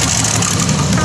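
A rare W18 engine in a 2.5-tonne free-class pulling machine at Krumbach in 2013: a loud, dense, unbroken roar filling the whole second at close range.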